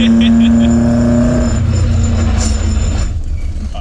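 Toyota AE86 Trueno with a 4AGE engine on individual throttle bodies, driving mountain roads: a loud, steady high-revving engine note holds then drops as revs fall, with a brief voice in the cabin.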